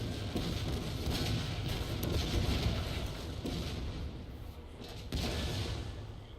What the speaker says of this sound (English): Why are those mortars firing?